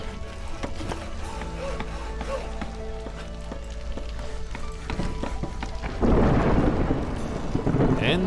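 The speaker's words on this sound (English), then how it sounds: "And the storm is coming." A thunderstorm with rain rolls through the video game Against the Storm: low rumbling and scattered clicks and tones over a steady bed, then a louder surge of rain and thunder near the end, with no talking.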